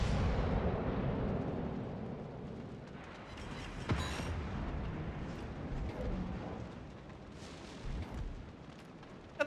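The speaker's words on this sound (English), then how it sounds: "Why is this Roma still shooting HE?" The Roma warship fires HE shells in a naval battle video game, sending out heavy booming salvos and low rumbling blasts across a sustained din of battle, with a few sharper reports standing out.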